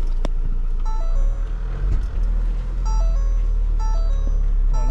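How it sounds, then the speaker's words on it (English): A Ford Transit 2.0 van rolls along on a test drive after a clutch replacement and power-steering fix, its steady engine rumble constant while repeated electronic dash beeps chime at intervals. "I'm just gonna take this around for a spin just to make sure that everything is okay, clutch and the power steering."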